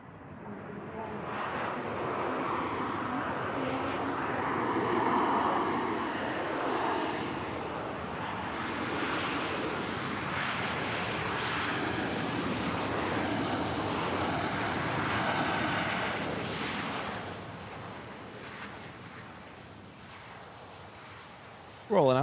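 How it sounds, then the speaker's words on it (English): A Ryanair airliner touches down and rolls out at Manchester Airport, a steady broad roar of engines and rushing air heard from a distance, continuous throughout with some wind noise on the microphone. "Nice touchdown from the Ryanair."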